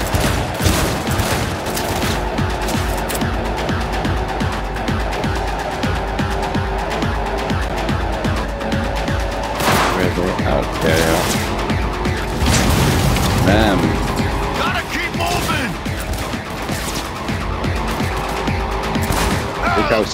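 Gunfire in the video game Cyberpunk 2077 runs nearly nonstop: dense rapid bursts and heavy booms layered over each other, loud and close, with a voice talking intermittently over the shooting.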